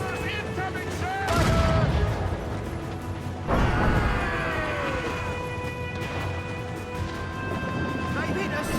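Ship cannons fire in a naval battle in Assassin's Creed Rogue, two heavy booming volleys over a steady layer of wind, sea and creaking rigging, with voices and music running throughout.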